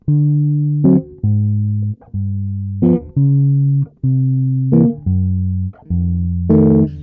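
A solo bass guitar plays a slow jazz bass line of single sustained low notes, one after another with brief pauses, clear and close.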